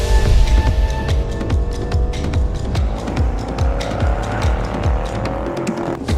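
A Jaguar F-PACE SVR, a 550-horsepower SUV, is driven hard, its engine roaring loud and close through repeated rising revs and gear changes, with sharp bursts and crackles throughout.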